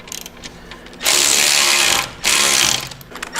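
Ratchet with a 15 mm deep well socket loosening an exhaust bolt on a 2024 bagger motorcycle, giving two loud, close bursts of rapid clicking, each about a second long, with quieter handling clicks around them.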